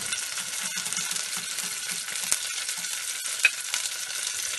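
Cauliflower manchurian sizzles and is stirred in a frying pan, with a steady soft crackle and scattered scraping clicks of the utensil, fairly quiet and heard without talk.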